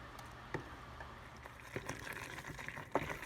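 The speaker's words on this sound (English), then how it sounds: "as it starts to boil, I'm just going to keep stirring it so it doesn't burn" Homemade blackberry jam boils in a pot while it is being stirred, giving faint, low bubbling with a few soft pops and thicker bursts, very quiet and close by.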